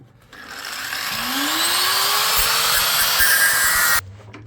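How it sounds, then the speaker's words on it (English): An angle grinder with its guard removed cuts through the last piece of a plastic air box on a Range Rover Classic with an M57 engine, spinning up to a loud, steady whine for a few seconds and then cutting off abruptly. "we absolutely did not use a grinder without a guard to cut the last bit off"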